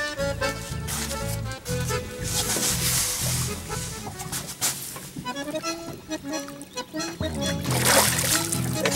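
A dorado let go into the river making splashes near a boat, the splashing mixed with music and excited voices.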